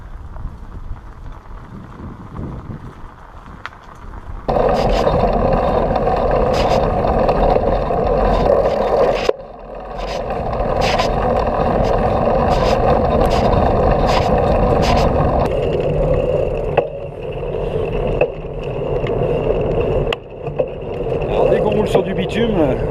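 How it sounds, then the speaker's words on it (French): Wide fat bike tyres on asphalt give a steady rolling hum and rumble that starts loud after a few seconds and stays constant, with wind noise and a few clicks and knocks. "Sur du bitume, on entend bien les pneus."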